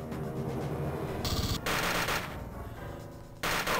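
Rapid automatic gunfire from the video game Aliens: Infestation, with dense bursts of shots and a few brief pauses, loud and continuous with no talk.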